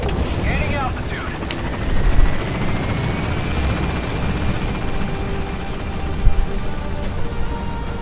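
Helicopter lifting off in Metal Gear Solid V: a loud, steady rotor roar with a rising whine, rumbling thuds beneath and a brief radio voice at the start.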